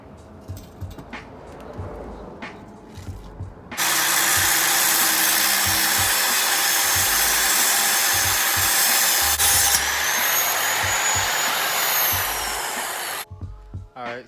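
A power saw grinds loudly and steadily for about nine seconds, cutting through a Toyota Cressida coil spring at a marked spot, with quieter clatter before and after.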